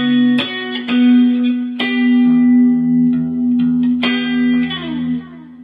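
An electric guitar plays a slow passage from a song, with sharp plucked attacks over a sustained low note, several distinct picked notes and a sliding figure near the end, treated with reverb and effects; no voice.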